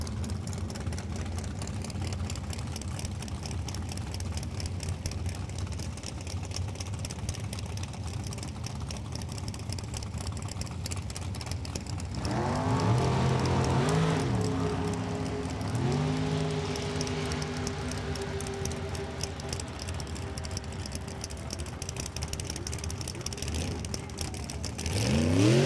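Drag racing cars at Lucas Oil Raceway, a Chevrolet and a Racecraft dragster, rumble at idle, then rev up loudly midway, with engines whining and climbing as they accelerate.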